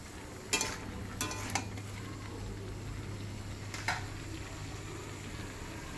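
Brinjal frying with spices in a pan gives a quiet, steady sizzle, broken by a few sharp scrapes and clatters from stirring and a low hum beneath.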